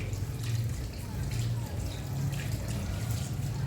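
Hands are rinsed under running tap water during handwashing before a childbirth procedure, a steady soft splashing flow lasting a few seconds with no talk.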